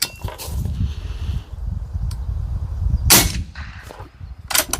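An AirForce Condor air rifle fires supersonic slugs outdoors, two sharp loud cracks a little over a second apart over steady background rumble and wind.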